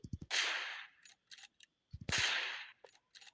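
Two sharp video game gunshots, each followed by a short burst of softer clicks and handling noises, spaced about a second and a half apart, clear and close with no talk.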